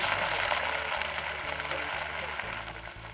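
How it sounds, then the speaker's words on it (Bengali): Ginger, garlic and green chilli paste fries in hot oil, giving a dense, even crackling sizzle that holds steady throughout, close and fairly loud, with a low hum beneath it. "আদা রসুনটা সুন্দরভাবে কষানো হয়ে যাচ্ছে পুরো ভাজা ভাজা হয়ে গেল"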